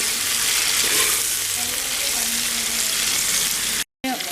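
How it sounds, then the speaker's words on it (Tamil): Green chilies and onions frying in oil for a vegetable biryani give a loud, steady, close sizzle that crackles without pause, cutting out for a split second near the end. "அதுலேயும் இந்த பச்சை மிளகாயை சேர்த்துக்கலாம். கொஞ்ச நேரம் வதங்கட்டும்."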